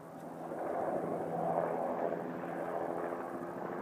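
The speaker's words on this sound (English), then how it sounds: "flying in the helicopter" A helicopter flies at a distance, giving a faint, steady rumbling drone with some wind noise.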